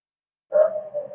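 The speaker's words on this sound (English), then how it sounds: "Sorry about the barking." A single dog bark rings out after a moment of silence, followed by a short trailing yelp, fairly close and clear.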